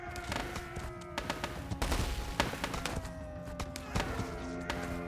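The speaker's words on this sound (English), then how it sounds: "Ram Pam is focusing the fire of all his cannons on the same building so that they go down faster" Cannons in a War Selection strategy-game battle fire steadily at a building, making repeated sharp booms and thuds in an irregular, rapid volley. The bursts sound fairly close and overlap with each other against a busy battle background.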